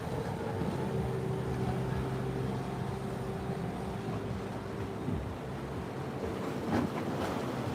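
A boat motor drones steadily on the water at Jupiter Inlet amid wind and wave noise, with a faint tonal hum throughout.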